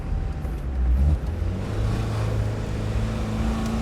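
Inside a 1989 Renault Espace, roughly 50 horsepower with no turbo and smelling of diesel, the engine accelerates in second gear, giving a loud low drone that surges briefly and then settles into a steady rising hum.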